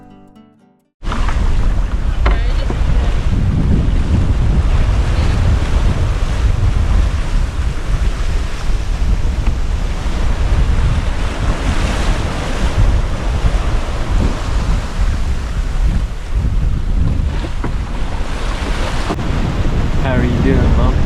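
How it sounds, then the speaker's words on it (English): On a sailboat in rough sea near East Point Island, steep, short waves crash against the hull under heavy, roaring wind that buffets the microphone, loud and continuous after an abrupt start. "As we approached East Point Island, the waves became steep and short."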